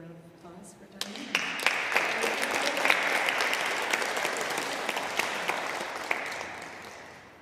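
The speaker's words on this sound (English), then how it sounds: "So please give a round of applause for Diane." An audience in a church hall breaks into applause after a brief spoken introduction, the clapping rising quickly and holding as a dense, steady patter for several seconds.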